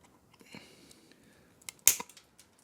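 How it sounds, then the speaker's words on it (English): Side cutters snip a plastic tab off a wheel with one sharp, bright click, near and fairly loud, preceded by faint handling ticks and a soft earlier snap in a quiet room. "What I'm going to do now is cut those two tabs off with some side cutters"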